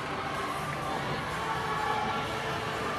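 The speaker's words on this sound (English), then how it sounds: "Let's look again at the dismount with their teammates cheering her on here." Teammates cheer from the sidelines at a college gymnastics meet between North Carolina and NC State, a steady crowd roar with shouts and whoops running at an even level throughout.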